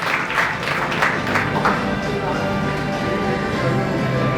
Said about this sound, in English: Let's make this moment memorable with huge round of applause as we launch our Project Earbook